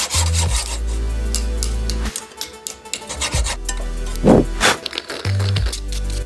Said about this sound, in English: Then take a hacksaw and cut the mark piece off.